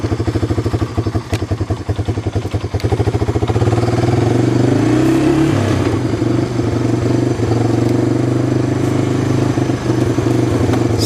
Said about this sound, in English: just keep my quad running here